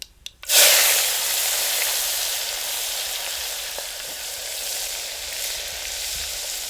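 Onions hit hot oil seasoned with asafoetida, bursting into a loud hissing sizzle after a couple of quiet knocks, then settling into a steady close frying crackle that fades slightly.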